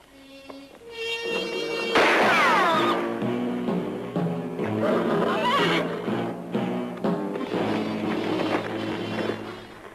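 Horses neigh and whinny amid a loud, busy Western action scene, with a sustained shrill call near the start over a dense bed of music and commotion.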